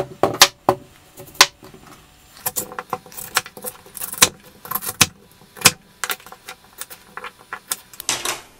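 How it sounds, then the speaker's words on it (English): A knife cuts the ends off hard sweet potatoes in a kitchen, making a series of sharp, close taps and chops on a cutting board at an uneven pace. "The next thing you want to do is just cut them up, just fronts and ends."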